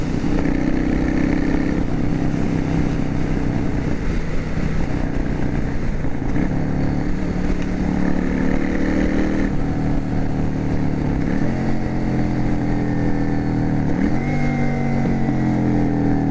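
A Yamaha V Star 650 Classic motorcycle engine drones steadily while riding, with the pitch rising and falling as it shifts. Occasional faint pops sound through the loud, continuous hum.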